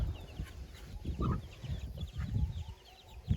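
Chickens and a brood of about 26 downy chicks cluck and peep on a farm, a steady low clucking texture with scattered higher chirps, moderately near and continuous.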